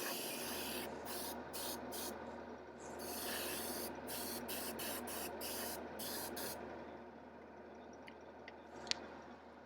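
An airbrush spraying thin layers of paint in a workshop, a steady close airy hiss broken by brief pauses, quiet and continuous with no talk.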